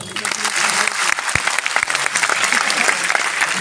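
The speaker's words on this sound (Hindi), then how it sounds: "एक बार अपने तालियां बजा दो।" Audience applause at a Hindi shayari poetry recital, steady crowd clapping with a few sharper claps, running throughout with some talk mixed in.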